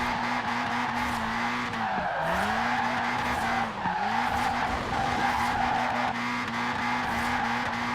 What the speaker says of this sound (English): start drifting.